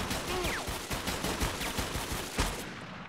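Rapid bursts of gunfire in the action shooter 50 Cent: Bulletproof, a dense run of loud shots with a few sharper cracks, steady and close throughout.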